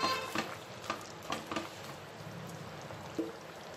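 Village-style chicken curry stirred in a pot, giving soft scrapes and knocks with a light simmering sizzle, fairly quiet and with no talking.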